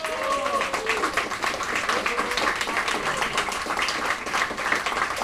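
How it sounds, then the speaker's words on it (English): Audience applause at a live Mind Sports Olympiad broadcast greets a commentator and former Pentamino world champion, a steady broadband patter of clapping that runs the whole stretch, with some voices and crowd murmur mixed in. "let's give a round of applause to Paco de la Banda"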